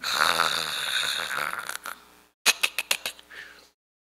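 A preacher imitates snoring with his voice, a drawn-out rasping snore followed by a pause and then a quick series of short snorting bursts, close and loud.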